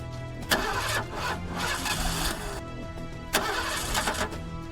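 A car engine cranks repeatedly but fails to start, with two rough bursts of starter grinding and sputtering close by.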